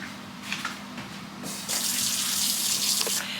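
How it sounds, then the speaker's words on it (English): Hot water poured into a canner full of tomato jars, a soft splash at first that then swells into a loud, steady gushing stream lasting a couple of seconds, close by and with no talking. "so I need to add some more hot water."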